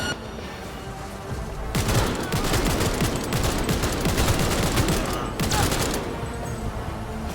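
Heavy gunfire during a firefight in Cyberpunk 2077, starting after a quiet moment and continuing as a dense, loud volley of overlapping shots and bursts for several seconds before easing back.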